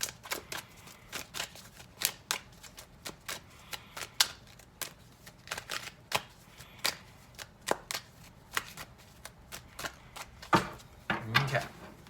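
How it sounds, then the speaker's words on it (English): Tarot cards are shuffled by hand in quick irregular bursts of crisp flicks and riffles, close and fairly soft, with brief pauses between shuffles. "I'm just going to go ahead and shuffle these a little bit more"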